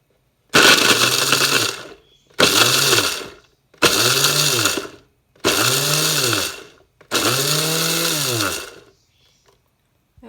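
Food processor pulsing to chop stiff CosClay polymer clay: five loud bursts of about a second each, separated by short pauses, with a grinding motor whine that shifts pitch as the blades break the clay into small bits.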